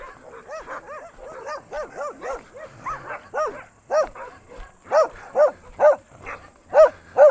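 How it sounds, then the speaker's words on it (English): Several dogs bark and yip in quick repeated bursts in a village at night in Bashkortostan, Russia, growing louder and more evenly spaced toward the end, with no talking. "so many dogs."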